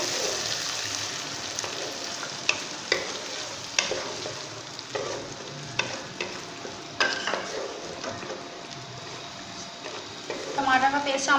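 Tomato paste goes into whole garam masala and cumin frying in oil, and the steady sizzle is punctuated by regular spoon taps and scrapes against the pot, with a brief bubbling burst near the end.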